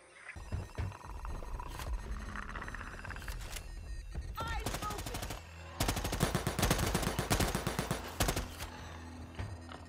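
Gunfire crackles in a video game: scattered shots at first, then dense, rapid automatic bursts that grow louder and more sustained toward the end.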